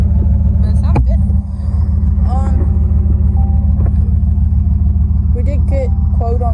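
A Chevy 1500 engine runs cold after sitting unused for a long time, holding a loud, steady, low idle rumble close by while people talk over it.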